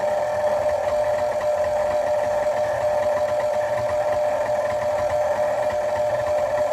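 A stand mixer kneading bread dough for a Pullman loaf runs at a steady low speed, giving off a continuous motor hum with a faint rhythmic knocking throughout, close and even in level, with no talk.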